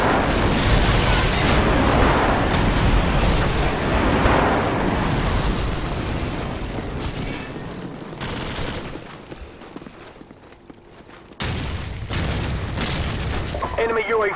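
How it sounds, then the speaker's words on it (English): Airstrike explosions in a first-person shooter game pile into a dense, loud roar of booms and gunfire that fades toward the middle, drops briefly to near silence, then surges back as heavy rumbling blasts. "Airstrike on the way."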